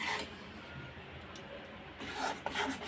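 Gram flour is roasted in ghee in a kadhai for besan ladoo, with a spatula scraping and rubbing steadily across the pan in a continuous rasping texture.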